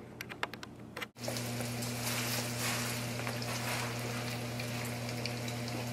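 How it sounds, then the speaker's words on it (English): Bacon sizzles steadily in a frying pan, a dense, loud crackle and hiss that holds without a break after a short burst of lighter clicks at the start, with no talking. "Get your bacon frying."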